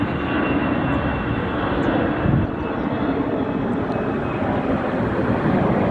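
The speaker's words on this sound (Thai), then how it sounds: "นั่นเครื่องบินขึ้นจ้ะ" An airplane taking off near an airport, a loud steady roar of jet engines filling the air throughout, with no distinct talking over it.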